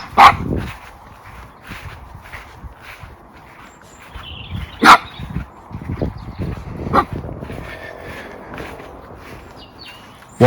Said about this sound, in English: he's barking at a tree